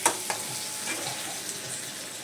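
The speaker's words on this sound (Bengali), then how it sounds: "আর এখানে এটা পেঁয়াজ, আদা, রসুন আর টমেটো ভালো করে কষানো হচ্ছে।" Onion, ginger, garlic and tomato sautéing in a pan, a faint, steady, close-up sizzle with a couple of light stirring clicks near the start.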